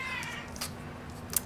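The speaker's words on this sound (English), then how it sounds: "That's my cat." A pet cat meows once, faint and somewhat distant, in a quiet room where someone is drawing.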